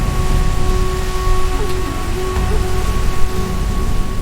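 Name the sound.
rainstorm with thunder in forest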